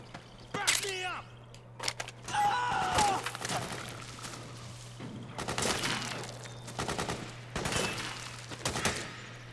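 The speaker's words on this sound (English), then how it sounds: "Suppressing fire." Suppressing gunfire in the PS3 game Metal Gear Solid 4: Guns of the Patriots crackles in sharp, repeated bursts and scattered single shots across the whole stretch, loud against a steady low hum, with a brief whistling tone early on.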